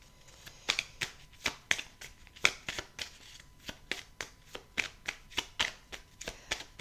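Tarot cards are drawn and handled in quick, irregular snaps and flicks, close and fairly quiet, with no voice over them.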